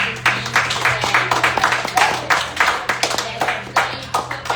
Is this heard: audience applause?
yes